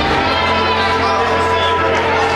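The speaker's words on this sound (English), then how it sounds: "our capacity crowd here keeps growing well into the start of Deal with the Steel" Capacity crowd of wrestling fans filling an arena at a Deal with the Steel event, a dense, continuous roar of chatter and cheering at steady loudness, with a voice talking over it.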